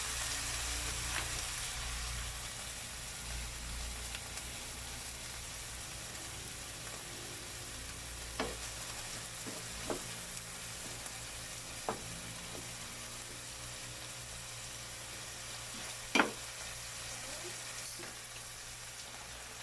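Corned beef sautéing in a pan, giving a soft continuous sizzle with occasional utensil clicks and stirring scrapes; faint and steady, with little talk.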